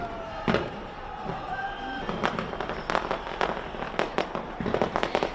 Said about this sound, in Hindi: स्काई टावर की ये तस्वीर आप देख रहे हैं जो आतिशबाजी हो रही है